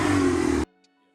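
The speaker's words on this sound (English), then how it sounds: "my 2015 Mini Cooper S also had a Borla exhaust" A 2015 Mini Cooper S with a Borla exhaust rasps loud and close in a short rev lasting about half a second, then cuts off abruptly to near silence.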